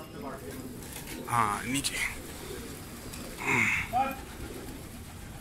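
A flock of about a hundred male pigeons coos in soft, repeated throaty bursts, near and moderately quiet, while people speak quietly in Hindi-Urdu between the calls.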